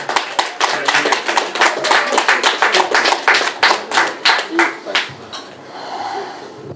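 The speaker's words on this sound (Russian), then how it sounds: "друзья, громкими аплодисментами." A concert audience claps loudly and close in a quick, rhythmic beat for several seconds, then the clapping breaks off into a quieter murmur.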